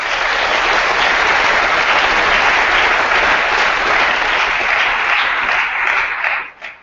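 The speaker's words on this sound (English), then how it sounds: "You ought to give yourselves a round of applause." A large high school audience at an Advanced Placement district award ceremony claps loudly and densely, a sustained roar of hands that holds steady and then drops off abruptly near the end.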